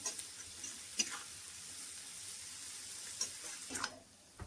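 Onions and other ingredients for egg Maggi noodles fry in a pan with a steady, close sizzle, broken by a few sharp ticks of stirring before the hiss drops away near the end.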